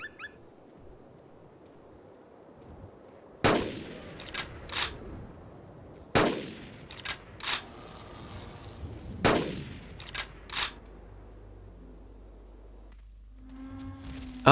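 Gunfire in the Carnivores Dinosaur Hunt video game: three loud, sharp shots spaced a few seconds apart, each followed by a short rattling echo over a quiet background, with a faint tonal sound near the end.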